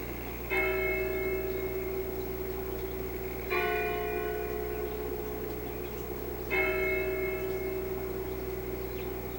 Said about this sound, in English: the bell at the bell tower is gonna start ringing again